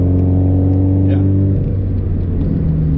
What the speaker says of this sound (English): we're going to do a little dig and run her through like 4th gear